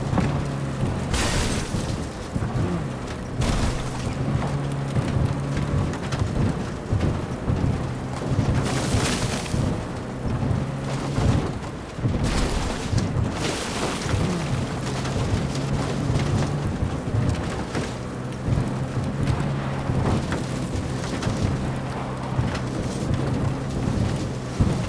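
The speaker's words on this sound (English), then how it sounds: "That is one hell of a storm!" Heavy rain pours steadily in a Cyberpunk 2077 desert thunderstorm, with loud rumbling thunder bursts rolling in several times over a constant low drone, close and enveloping with no talk.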